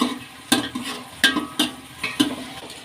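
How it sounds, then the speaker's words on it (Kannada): Field beans (avarekalu) frying in hot oil with onions, stirred with a spoon: about five sharp scraping clinks at irregular intervals over a soft, continuous sizzle, close and clear. "ಎಣ್ಣೆಯಲ್ಲಿ ಫ್ರೈ ಮಾಡ್ಕೊಳ್ಳೋಣ"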